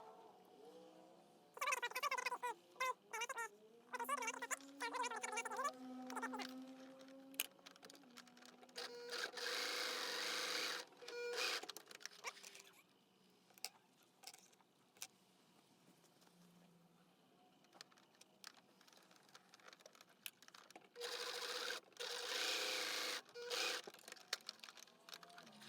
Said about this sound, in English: finish up the edges here on the sewing machine